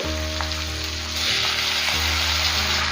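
Tomatoes go into a pan of softened, sizzling onions, making a loud, steady close-up frying hiss that swells a little partway through as the contents are stirred.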